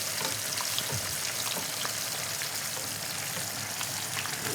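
A whole fish frying in hot oil gives a steady, close, dense crackling sizzle with scattered pops and spits, continuous and fairly loud with no voices.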